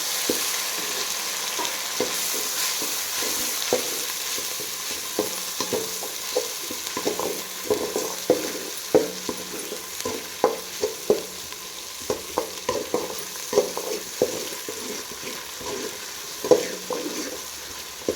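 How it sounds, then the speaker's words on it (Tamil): Ginger garlic paste sautés in a pan for a fish curry, with a steady sizzle and repeated stirring clicks and scrapes throughout, close and moderately loud, with no talking. "இஞ்சி பூண்டு வந்து நல்லா வதங்கணும்"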